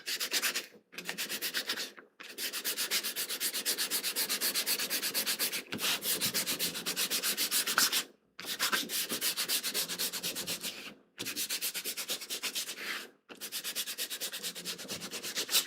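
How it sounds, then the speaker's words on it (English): Sandpaper rasps back and forth across the back of a piece of chrome tan leather in close, rhythmic strokes, with short pauses between bursts of rubbing. "I'm just gonna sand this so when I glue, the glue will stick to it"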